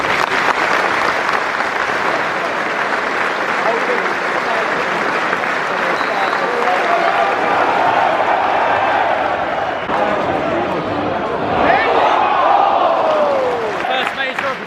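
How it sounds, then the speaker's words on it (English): A minute's applause from the football crowd at Fratton Park before Portsmouth versus Cheltenham Town, sustained dense clapping filling the stadium, with shouts rising briefly near the end. "a minute's applause will begin and end on the referee's whistle"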